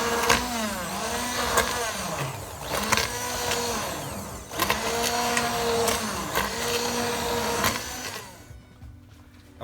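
A blender purees a spiced vegetable chowder in loud, steady whirring bursts that swell and dip in pitch as the motor labors, then cuts off abruptly near the end.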